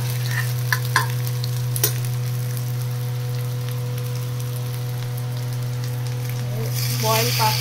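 Onions and capsicum frying for pasta: a steady sizzle with occasional stirring taps, over a constant low hum, and a louder burst of frying near the end, no talking.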